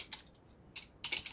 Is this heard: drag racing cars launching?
no